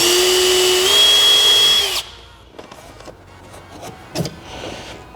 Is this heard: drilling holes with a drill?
yes